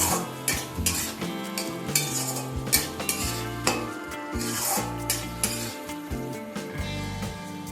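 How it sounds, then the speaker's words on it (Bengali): Spices with salt and Kashmiri red chilli powder are stirred and fried in a pan for a vegetarian banana flower curry, with a steady sizzle under repeated scraping strokes of a spoon or spatula. Nobody speaks. "মশলাটাকে ভালোভাবে কষিয়ে নিতে হবে।"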